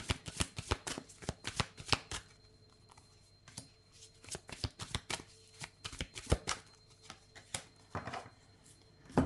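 Manara and Inner Star oracle decks are shuffled by hand, producing a rapid, irregular run of crisp card riffles and slaps, close and fairly quiet, with no talking.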